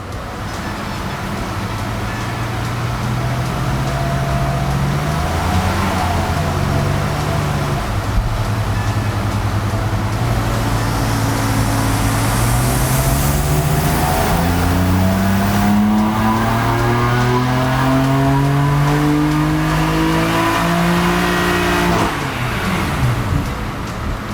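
A BMW F80 M3 runs hard on a dyno, its engine note loud and continuous, climbing steadily in pitch through long pulls with brief dips between them, and no voices over it.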